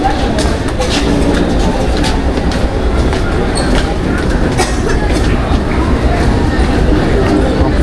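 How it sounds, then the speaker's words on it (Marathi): A Mumbai local train pulls in on a rainy day, a loud, close, continuous rumble and rattle of wheels and carriages with faint squeals, while a person talks over it. "आपली पण ट्रेन आलेली आहे फायनली."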